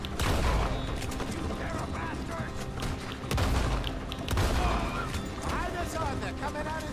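Gunfire in Red Dead Redemption 2, sharp shots and mechanical clatter under continuous game noise, with people talking in the scene.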